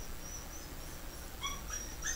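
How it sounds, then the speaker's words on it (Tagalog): A puppy whines in a few short, high-pitched cries toward the end, over a steady low background hum. "Pasensya na kayo, may maingay na tuta."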